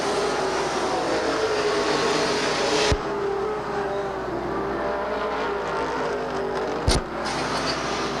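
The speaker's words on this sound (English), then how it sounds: "It continues to be Jay Johnson showing the way as they work lap number 5 of this 35-lap feature event." Race cars circle Beech Ridge Motor Speedway during a 35-lap feature in 1990, their engines a steady, continuous roar from a distance with a couple of brief sharper bursts as cars pass.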